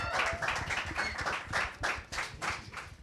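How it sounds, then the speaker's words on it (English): An audience at a student talent show applauds with rhythmic, energetic clapping in steady repeated bursts, loud and close, with no talk over it. "Let's give them another round of applause."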